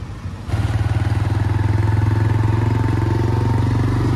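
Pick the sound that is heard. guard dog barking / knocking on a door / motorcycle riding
motorcycle riding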